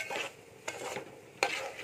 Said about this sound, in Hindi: इसे हम चलाते रहेंगे ताकि ये नीचे से पकड़े ना, जले ना।